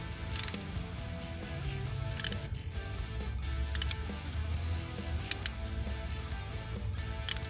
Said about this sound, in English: You can see here I have my torque wrench to 20 foot-pounds.